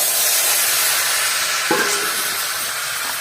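Potato and radish pieces hit hot oil seasoned with cumin seeds, giving a loud, steady frying sizzle and hiss with a brief clatter of stirring partway through.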